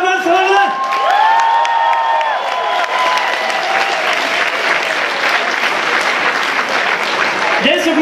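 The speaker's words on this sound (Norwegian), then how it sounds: "Skal vi gi deg en god applaus" A parody song contest audience bursts into loud applause mixed with cheers, whoops and shouts, swelling after an opening of voices and staying dense and lively, with people calling out over it.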